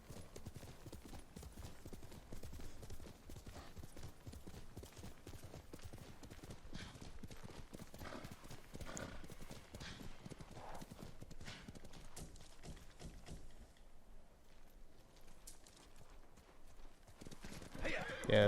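Kage, a horse in the game Ghost of Tsushima, gallops with a steady, rapid clip-clop of hooves that runs throughout, mixed with occasional whinnies and game ambience, while someone talks over it.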